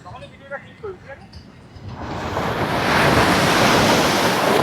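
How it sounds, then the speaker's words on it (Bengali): Big ocean waves on Tajpur beach break into a loud, sustained roar that rises and holds, after a brief stretch of voices at the start. "ভীষণ লেভেলের ঢেউ হচ্ছে।"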